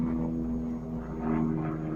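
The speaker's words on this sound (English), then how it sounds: "Actually, it'll probably be a helicopter." A helicopter or other aircraft passes overhead above a garden, a steady low droning rumble with a constant hum, loud and unbroken throughout.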